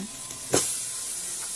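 Mixed vegetables sautéed plain in a pan with no meat or seafood, giving a steady close sizzle with one sharp burst of hissing steam partway through.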